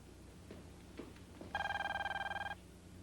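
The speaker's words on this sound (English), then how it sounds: "Answer the phone, George." A telephone bell rings once in an office setting, a loud rapid trilling burst lasting about a second after a few faint thuds, with no one speaking.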